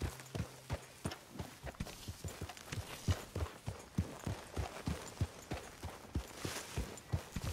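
Horse hooves clip-clop steadily on the ground in Red Dead Redemption 2, a brisk, even rhythm of close, moderately loud strikes continuing throughout without speech.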